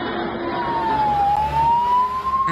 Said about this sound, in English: And in the distance, the sound of sirens.